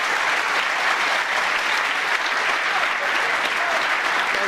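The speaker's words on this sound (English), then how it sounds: "terrific round of applause" A snooker crowd at the World Championship applauds a fine shot during a century break, steady dense clapping sustained at full volume throughout with no talk over it.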